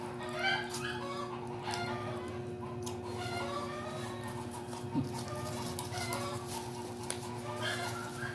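Chickens cluck softly at a distance in a quiet yard, with scattered calls over a steady low background hum.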